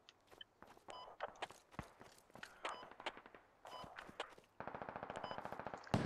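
Gunfire at a logistics truck in the video game Squad: scattered single shots and short bursts, then a rapid sustained automatic burst near the end, fairly distant with no talk over it.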